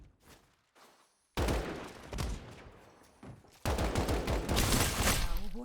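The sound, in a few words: AK rifle gunfire in a video game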